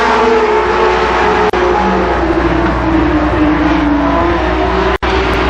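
Race cars roar around Columbus Motor Speedway in 1992, a loud, continuous engine din of several cars at speed, broken only by two momentary dropouts.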